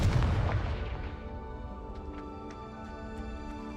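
A Confringo spell explosion in the video game Hogwarts Legacy, one loud deep boom at the start that rumbles and decays over a few seconds, followed by faint light ticks.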